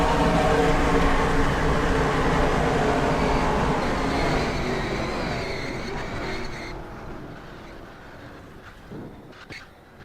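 Race car engine roaring steadily in a racing video game set at Talladega, loud and continuous, then fading somewhat toward the end.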